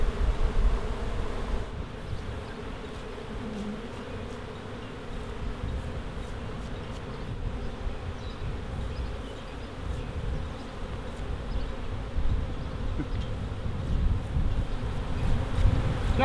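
A honey bee swarm on Loxton's main street hums in a dense, continuous, close buzz that holds steady throughout, with light wind noise against the microphone.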